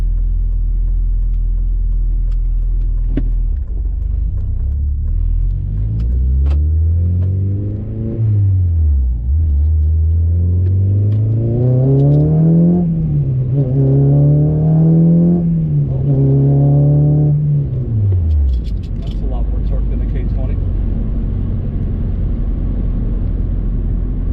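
Honda Civic Si with a K24a engine swap on a test drive: a loud, close engine rumble rises in pitch with each gear, drops briefly at the shifts, then settles into steady cruising before winding down, with no talking.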